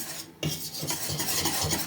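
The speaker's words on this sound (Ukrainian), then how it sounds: "Гарно розмішаємо, дівчатка." Close scraping and swishing of a spoon stirring thick dough batter for sausage rolls in a bowl, steady repeated strokes with no talking.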